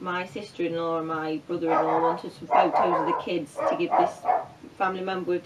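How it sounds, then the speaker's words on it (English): A dog barks repeatedly indoors, sharp close barks coming in clusters through the whole stretch, mixed in with someone talking steadily over them. "I'm sorry about the dog, he was silent till I started filming."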